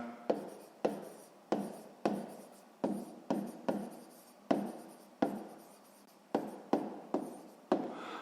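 Pen strokes on paper while working a sixth-grade maths exercise, a steady series of short scratchy bursts about every half second, close and fairly quiet with no talking.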